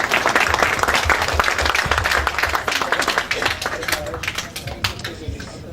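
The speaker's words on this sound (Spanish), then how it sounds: "Damos un fuerte aplauso" An audience at a climate change forum gives loud, sustained applause, dense clapping that fades slightly toward the end with faint crowd murmur underneath.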